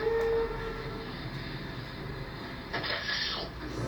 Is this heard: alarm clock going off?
no